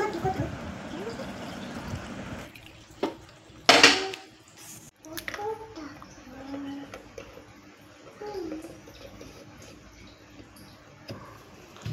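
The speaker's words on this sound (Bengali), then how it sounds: "এবার আমি দুধটাকে ঢেলে নিচ্ছি ফিটারের মধ্যে।" Hot milk is poured into a baby feeding bottle in a home kitchen, with clinks of dishes and a brief splash and trickle of liquid, as someone talks nearby.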